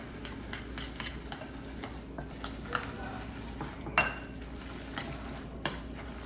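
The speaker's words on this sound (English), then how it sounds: "I'm gonna go ahead and stir this thing." Korean spicy cold noodles being stirred in a pot, quiet scraping and clinking of utensil against the pot with a few sharper knocks, close and soft, no talking.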